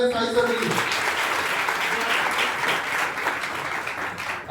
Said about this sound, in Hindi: एक बार जोरदार ताली साहित्य सर के लिए